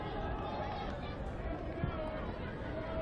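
Football stadium crowd at a women's match involving Malawi, a steady dense hubbub of chatter and murmuring voices filling the space without any distinct cheer or chant.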